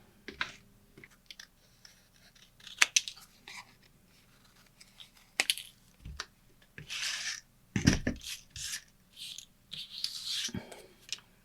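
Scissors cutting out watercolor paper gift bags, with crisp snips and paper rustles in irregular short bursts, close and fairly quiet over a faint background hum, no talking.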